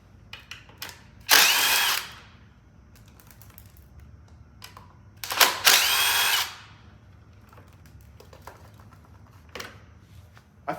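A power tool spins out 8mm bolts from the foot pegs of a 2022 Honda CB500X in two loud close bursts of about a second each, separated by quieter clicks and handling taps.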